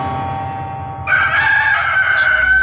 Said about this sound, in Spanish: un gallo cantó